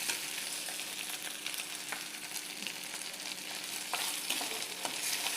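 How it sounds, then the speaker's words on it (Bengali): Ginger and garlic frying in oil in a pan for palak chicken give a steady, close sizzle, with scattered stirring scrapes and clicks throughout. "আদা রসুনটা দিয়ে দিয়েছি, সুন্দর করে ভাজা ভাজাও হয়ে এসছে"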